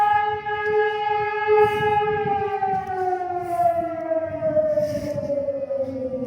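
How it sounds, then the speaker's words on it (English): A loud civil defense siren drones on, its layered tones gradually sliding downward in pitch as it winds down. "Yeah, we got a new siren."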